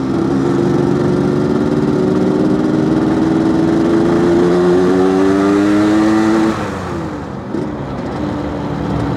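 A smoky motorcycle engine revs under long, steady throttle, its loud, close drone climbing in pitch for several seconds before dropping back toward a lower idle.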